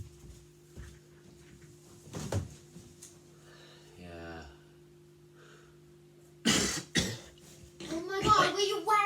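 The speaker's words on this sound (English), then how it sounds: "Will you stop coughing on me?" A person coughs in a few sharp bursts, close to the microphone, interspersed with talking and quiet pauses in a room.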